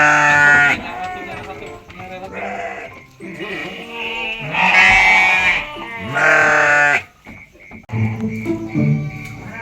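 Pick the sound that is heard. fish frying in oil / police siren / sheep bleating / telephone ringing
sheep bleating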